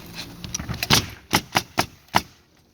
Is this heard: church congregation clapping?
no